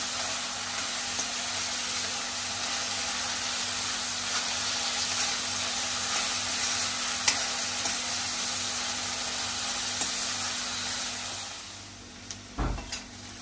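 Onion sautéing in a pan for squid masala, a constant broad sizzle under a steady hum, with a sharp knock near the end as the sound drops away.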